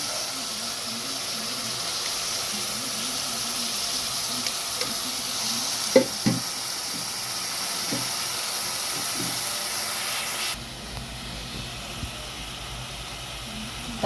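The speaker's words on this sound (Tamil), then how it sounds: "கறியோட தக்காளியை சேர்த்துக்கிறேன்." Mutton and tomato fry in a pan for a mutton head gravy, a steady soft sizzle and hiss with occasional scraping stirs, close and fairly quiet, shifting to a duller sizzle near the end.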